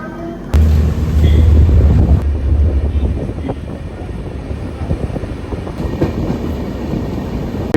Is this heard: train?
yes